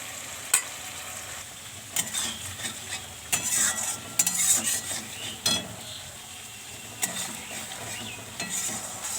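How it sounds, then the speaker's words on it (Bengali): Masala with coriander powder, turmeric and Kashmiri chilli powder stir-fried in oil, a spatula scraping and stirring in repeated strokes over a steady low sizzle, close and fairly loud with no voices. "মশলাটা ভালো করে কষিয়ে নেব"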